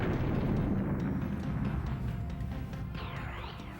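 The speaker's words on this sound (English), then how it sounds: "I do appreciate the rather large screen filling explosions every once in a while." Rumbling explosions from the Nintendo 64 game Mischief Makers fill the sound with a loud, low blast that slowly fades over a few seconds, with a faint electronic sweep near the end.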